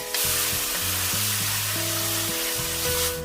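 Coarsely ground tomatoes hit hot oil in a pan for palak paneer, giving a loud, steady, hissing sizzle throughout, with a few tonal hums from the stove or surroundings underneath and no talk.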